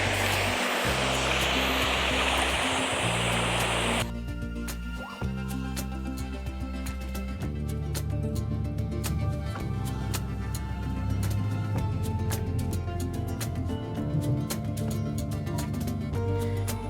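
Njandirukki waterfall gives a steady, loud broadband rush of falling water for the first few seconds, then drops away as music with steady tones takes over and masks it for the rest.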